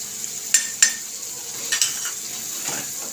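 Turmeric and salt hit hot oil in a pan for a restaurant-style matar paneer, producing a soft steady sizzle with several sharp clinks of a spoon against metal, close and without speech.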